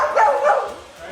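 Kinako the dog gives two or three short, close yips or barks in quick succession, with a voice speaking nearby.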